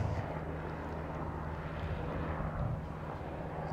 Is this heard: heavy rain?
no